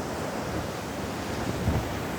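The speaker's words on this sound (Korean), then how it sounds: "지금 파도가 이렇게 치고 있습니다" Surf on a beach at Songjeong during Typhoon Maysak, a steady roar of wind-driven waves with constant broadband noise and a slightly louder surge near the end, no voices.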